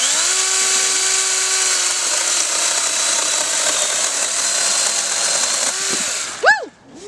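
A DeWalt 20-volt 12-inch cordless chainsaw, model DCCS620, whines at a steady high pitch while cutting firewood, close and loud, then winds down and revs in a few short bursts at the end.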